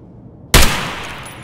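A single sharp gunshot in the video game Escape from Tarkov, cracking loud and close after a quiet lead-in, then a short decaying tail.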